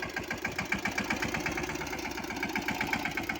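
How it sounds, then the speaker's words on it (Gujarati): A Yuvraj farm tractor engine runs steadily nearby, a close, even idle with regular knocking firing pulses and no voices over it. "જો ચાલે છે ને ટ્રેક્ટર કમ્પ્લીટ."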